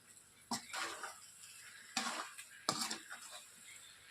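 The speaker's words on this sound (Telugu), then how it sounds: "ఆ కోవాను వేసి స్వీట్ దీనికి తగిలేటట్లుగా ఒక 5 నిమిషాల వరకు బాగా కలపాలి ఫ్రెండ్స్" A spoon or spatula stirs khoa into carrot halwa in a pan, producing a few separate scraping, clinking strokes against the metal at close range with quiet pauses between them.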